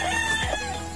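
Newly hatched chicks and chickens are heard in a brooder, with a close, loud fowl call that rises and falls over a steady background of bird noise, and no one speaking.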